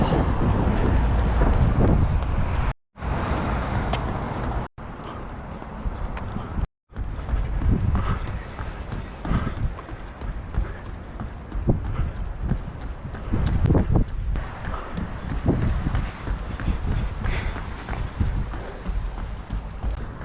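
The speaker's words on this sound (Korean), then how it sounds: "오늘 바람이 많이 붑니다" Strong wind roars across the microphone during an outdoor run, a loud continuous buffeting rumble with brief dropouts and faint footfall-like thumps underneath.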